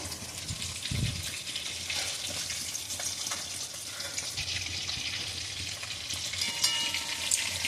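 Marinated fish fries in a pan with a steady, moderately loud sizzle and crackle, broken by a few soft stirring knocks and splashy bursts.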